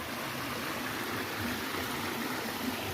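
Steady rushing water pours continuously over a dam in Vangani during the monsoon, at a moderate level, a broad even hiss with no voices or breaks.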